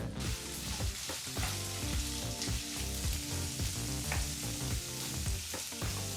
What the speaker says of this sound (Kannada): ಸಣ್ಣದಾಗಿ ಕಟ್ ಮಾಡಿದಂಥ ಎರಡು ಈರುಳ್ಳಿನ ಹಾಕಿ ಜೊತೆಗೆ ಸ್ವಲ್ಪ ಕರ್ಬೇವಿನ ಸೊಪ್ಪನ್ನು ಸಹ ಹಾಕಿ ನಾಲ್ಕರಿಂದ ಐದು ನಿಮಿಷಗಳ ಕಾಲ ಮೀಡಿಯಂ ಫ್ಲೇಮ್ನಲ್ಲೇ ಇದನ್ನೆಲ್ಲ ಫ್ರೈ ಮಾಡ್ಕೋಬೇಕಾಗತ್ತೆ